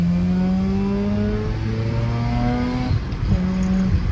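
A Mazda RX8 rotary engine revs up steadily through the gears with a rising, buzzing whine, then briefly drops after a shift and climbs again, loud and close from inside the car.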